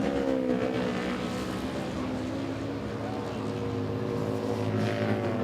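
A big Harley-Davidson flat-track motorcycle racing through traffic on the Knoxville dirt oval at an AMA event, its engine a loud continuous roar that stays steady throughout, with commentary voices faintly mixed in.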